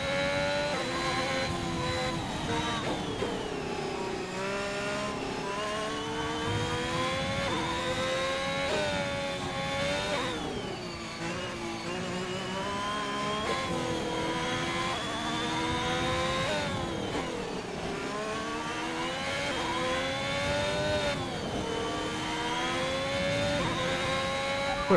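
Formula 1 car engine in the F1 2021 video game, a steady high-pitched whine that rises and falls with gear changes and speed through corners, loud and continuous, with no talk.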